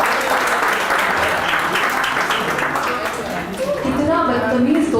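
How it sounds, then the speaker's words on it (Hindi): A class claps for a student, a full burst of applause from many hands running steadily throughout, with a voice speaking over it near the end. "ज़रा ताली बजाओ उसके लिए सब लोग"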